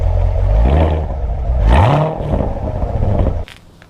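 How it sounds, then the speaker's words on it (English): A Corvette engine revs hard in two rising bursts, loud and close with a mechanical whir, then drops off abruptly to near quiet in the final half second. "This is why you gotta rev it out"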